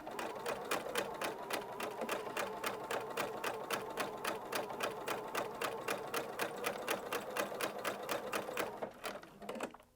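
Using a standard presser foot and a 3.5mm stitch, a sewing machine sews shirring along chalk lines with a steady, rhythmic needle chatter that runs evenly for nearly ten seconds and then stops.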